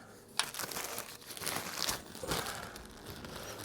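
A plastic bag of tractor engine parts for a Massey 240 rustles and crinkles in short bursts of handling, close and fairly quiet, with no talking.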